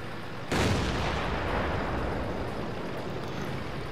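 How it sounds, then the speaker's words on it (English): A tier 9 artillery piece fires in World of Tanks, a single heavy boom that erupts suddenly and rolls out into a long, dense rumble that slowly fades without ever dropping away. "There's that blasted tier 9 artillery."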